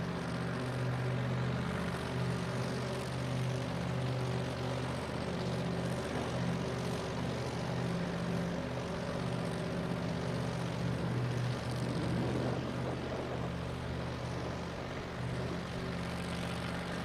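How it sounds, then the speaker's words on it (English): A methanol-fueled Hemi-powered GTO funny car engine idles at a drag strip with a steady, deep droning rumble. The level stays even throughout and no voices are heard. "Alex Barker brings that methanol-fueled Hemi-powered GTO towards the starting line"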